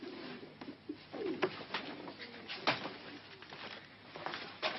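A pet turtle dove coos softly several times in a quiet indoor setting, its low repeated calls close by with faint shuffling in between.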